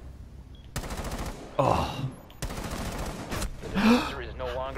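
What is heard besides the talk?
gunfire in a first-person shooter video game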